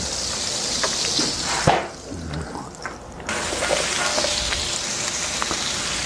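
Onions, peppers and garlic sizzle on a very hot flat top grill, a dense hissing crackle that drops away briefly mid-way, then returns at full strength.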